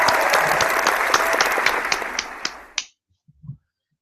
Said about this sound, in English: one more for the dads